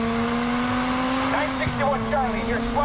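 Car engine from the Watch Dogs video game, a steady droning hum running throughout, with a brief skid or screech midway and someone speaking over it.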